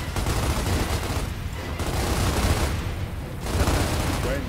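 Dense, continuous gunfire fills a Gears of War battle, rapid bursts and explosions layered loudly throughout with faint voices mixed beneath.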